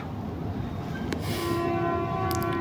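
A train idles at Cox's Bazar railway station with a steady low rumble, then a long horn tone sounds and holds, with brief hisses of air and a few sharp clanks.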